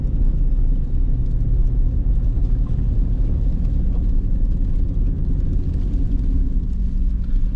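Cadillac Escalade cruising at about 30 mph along a winter road, a loud, steady low rumble of engine and tyre noise that continues without pause and without talk.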